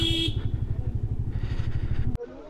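Motorcycle engine running with a steady low rumble, close by, as the bike is ridden and brought to a stop in a crowded parking area near Tungnath; the engine cuts off abruptly near the end.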